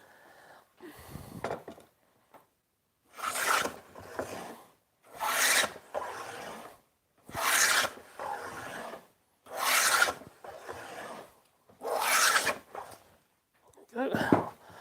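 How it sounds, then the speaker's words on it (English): A hand plane shaves the edges of a rough timber board in rhythmic strokes, about seven rasping passes separated by short pauses, close and fairly loud. "grab my hand plane and clean up all these edges"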